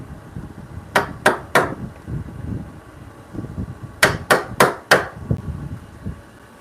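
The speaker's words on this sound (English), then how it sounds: "I have to use a smaller chisel on the other side." A hammer drives a small chisel into wood in two rapid bursts, first three sharp strikes and then four, each a crisp close knock, with faint workshop shuffling between them.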